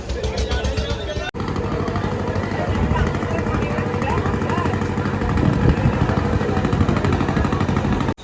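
A motor launch engine drones steadily and loudly on a river crossing toward Mayapur, a dense rumble with water and wind noise running throughout after a brief cut near the start.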